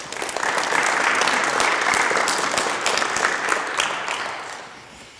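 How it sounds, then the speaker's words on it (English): An inauguration audience gives sustained clapping for an incoming deputy mayor running mate, a dense, even wash of many hands that holds steady and fades out over the final second. "Let's give a round of applause to Paul Provencher."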